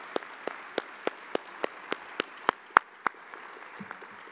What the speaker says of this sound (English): if you will just help me give a warm applause for her service and good luck on her new opportunity